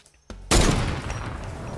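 Gunfire in the video game Fortnite: a brief faint lead-in, then a sharp loud burst of rapid shots that decays into a sustained rattling barrage, with no one talking.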